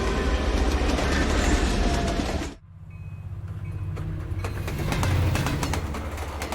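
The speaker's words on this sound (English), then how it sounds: "Breakfast is being served as the train rolls east through the Canadian Rockies." Passenger train rolling east through the Canadian Rockies on a clear morning, a loud near rumble with clickety-clack that drops abruptly midway, then returns and builds steadily, with no talk.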